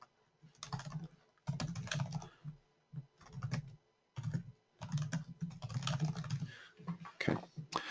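Bursts of computer keyboard typing come close and clear, clusters of rapid keystrokes broken by short pauses, with no talking over them.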